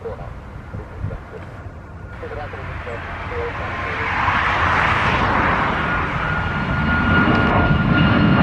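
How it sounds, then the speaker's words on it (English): A TUI Boeing 737 MAX 8 takes off at Gatwick, its jet engine roar building steadily from a distant rumble to a loud, broad wash of noise, with a voice talking faintly under it early on. "we've got the TUI 737 MAX 8."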